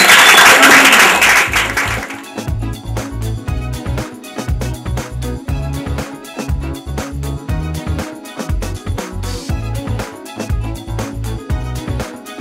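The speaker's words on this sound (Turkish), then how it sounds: "Mühendisimizi bir alkışlar mıyız?" A seminar audience applauds an engineer with a burst of dense, loud clapping at the start, which then gives way to rhythmic pulsing music for the rest of the clip.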